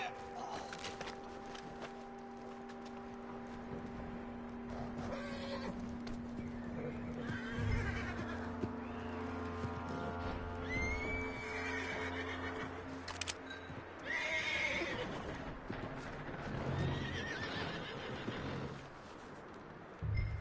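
A horse whinnies and snorts repeatedly over a low musical drone in the video game Red Dead Redemption 2, with hooves clopping at times.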